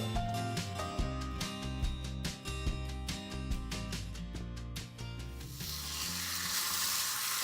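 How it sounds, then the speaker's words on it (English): Steady, loud sizzling of chicken frying in hot oil, a continuous crackling hiss with occasional pops, close up and without speech. "You want that sizzle."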